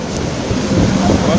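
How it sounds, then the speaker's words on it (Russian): Strong spring wind with hail in a town street, a loud, roaring gusty rush of air buffeting the microphone that swells toward the end, with no clear speech. "Здесь ветер и град. Здесь такой ветрище."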